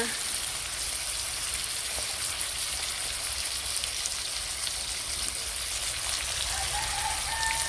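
Potatoes frying in hot oil with turmeric and dried chilli give off a steady, dense crackling sizzle that holds evenly throughout, close and continuous with no voices.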